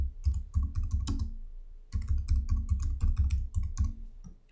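Rapid keystrokes clatter on a computer keyboard in quick bursts, with a short pause near the middle before the typing resumes, close and steady, as a name is entered.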